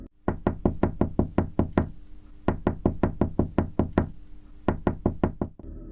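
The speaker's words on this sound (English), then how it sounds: "The next night, the tapping returned louder," Insistent knocking on a wall in a horror-story setting, sharp hollow raps in three quick runs of about six to eight beats each, separated by short pauses, close and distinct with no talking.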